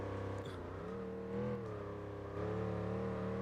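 A racing car's engine in Gran Turismo 4 holds a steady, slightly wavering drone, rising in pitch and loudness as it revs up, close and continuous with no talk.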